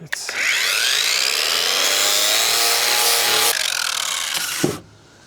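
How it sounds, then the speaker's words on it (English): A power tool grinds down a fiberglass patch on a sailboat hull, a loud continuous abrasive whine with shifting pitch for several seconds before it stops abruptly. "Grinding it down is the right option. So yeah, I think let's grind it down."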